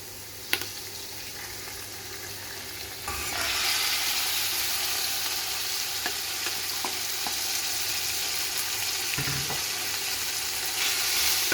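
Chicken pieces frying in a hot pan for chicken pasta, a steady hissing sizzle that swells louder once the meat goes in, with light stirring clicks now and then.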